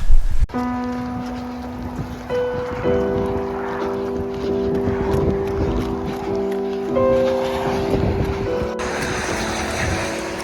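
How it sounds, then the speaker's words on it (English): Heavy slashing rain pours on a grim morning, a constant dense hiss with a low steady hum running underneath for the whole stretch. "Completely shit morning. Slashing rain"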